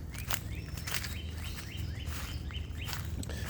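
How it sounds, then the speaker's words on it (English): Several birds chirp and trill in quick, repeated calls over a low steady rumble, a busy chorus of birdsong in park woods in Durham, North Carolina. "there are all sorts of birds in here"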